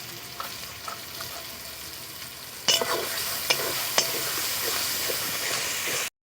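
Slit green chillies dropped into masala frying in a pan, giving a steady close sizzle and hiss with a few sharp crackles and stirring scrapes, the frying growing louder partway through.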